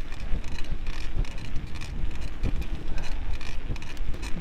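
Strong, gusty headwind buffets the microphone continuously while cycling, a rough roaring rush with irregular thumps.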